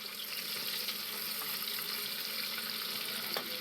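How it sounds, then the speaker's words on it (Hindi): Chopped onions frying in oil in a pan for chana dal masala, a steady close, dense sizzle running throughout with faint crackles and no talk. "अब मैं इसमें जो ये 2 से 3 टेबल स्पून अनियन है ये डाल दूंगी और इसको हम गोल्डन ब्राउन कर लेंगे"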